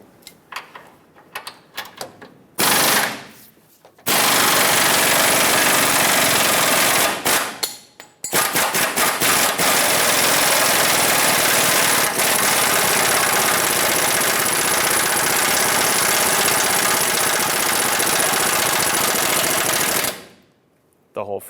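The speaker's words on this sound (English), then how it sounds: "I can probably put my impact with a swivel back on it and remove it the rest of the way" An impact wrench fitted with a swivel removes a track bar bolt on a 2003-2009 Dodge Ram 2500, hammering loudly and close in a short burst, then in a long continuous run of rapid rattling of around twelve seconds.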